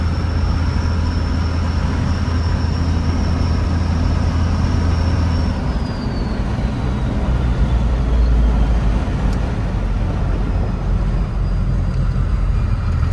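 A first-generation Cummins diesel truck cruising down the road, with a steady loud cabin drone of engine and road noise, a high whine that drops away partway through, and no talking.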